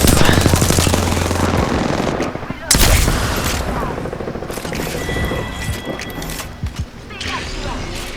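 Gunfire in the video game Apex Legends as a player fires repeatedly and misses, with loud bursts of shots and a sharp blast near the middle, all over constant game noise.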